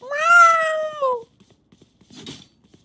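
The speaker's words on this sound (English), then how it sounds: "Bro, can you hear Luna? She's actually proper fucking loud." A cat gives one loud, drawn-out meow up close, then the room goes quiet apart from faint rustling and a soft scuffle.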